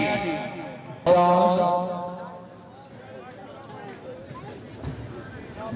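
Hooves pound as a horse charges at a Pakistani tent-pegging (neza bazi) spring festival in Kohali, a sudden loud gallop burst under an announcer's amplified commentary and crowd noise.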